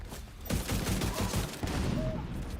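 Automatic weapon gunfire in The Division 2, a quieter opening followed by dense, loud bursts of rapid shots continuing nearly without pause.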